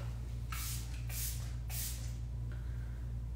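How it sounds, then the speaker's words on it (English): Three quick hisses of plain water from a handheld spray bottle misted onto a face, close and crisp, each burst about half a second long, followed by a fainter fourth spritz over a steady low hum. "I always spray my face with water because I don't want my face to look cakey"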